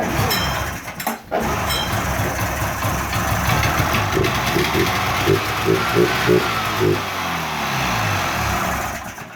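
A 1994 Polaris Indy Trail snowmobile engine, running on one carburetor with no fuel lines hooked up, idles loudly and steadily up close with a dense mechanical rumble, short revving pulses and a few metallic clinks.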